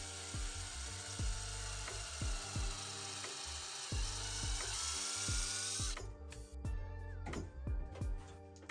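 A small high-pitched drill with a 2.71 millimeter bit runs steadily with rhythmic ticking and clicking beneath it, then stops abruptly, leaving scattered mechanical clicks and handling sounds, drilling a screw hole in a lightsaber hilt.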